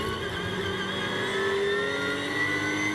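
A Ginetta GT race car at Donington accelerates away and bogs down, its mid-pitched engine note held steady with slowly shifting tones, heard over constant track noise.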